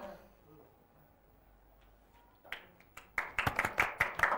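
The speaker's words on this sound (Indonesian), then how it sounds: "Kasih tepuk tangannya dong." Applause at a school variety show, beginning after a quiet stretch with a few isolated claps, then swelling into denser clapping from the audience near the end.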